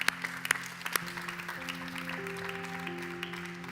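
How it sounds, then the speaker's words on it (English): A congregation claps at the close of a church gathering, moderate applause over sustained organ or keyboard tones, with a few sharper claps standing out early. "Let's give God a round of applause."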